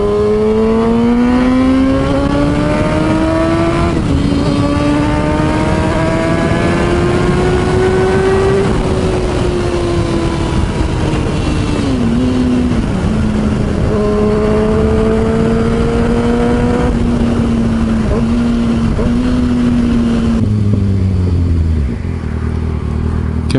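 A Kawasaki ZX6R motorcycle on a test ride, its engine note rising and falling steadily through the gears, loud and close with strong wind rush and no talk.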